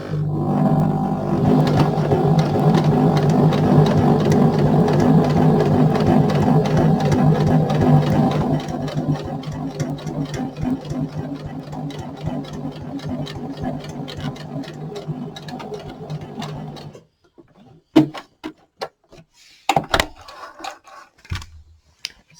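A sewing machine fitted with a zipper foot stitches along zipper teeth on a small fabric pouch, a loud, steady close-up motor hum with rapid needle clatter that runs for about seventeen seconds, then stops, followed by a few handling clicks.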